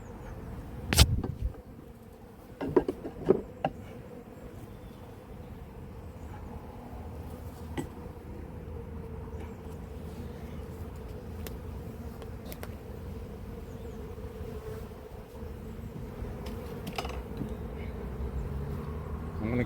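Honey bees in an apiary hive make a steady, low buzzing hum, with a few louder knocks and thumps early on as the hive is handled.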